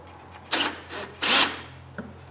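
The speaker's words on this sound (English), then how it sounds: "you put it on a drill. Now this is drill operated" A drill-driven Stripmeister stripping insulation from copper wire gives two short whirring, scraping bursts a moment apart, with a brief click afterward, close and fairly loud against a low steady hum.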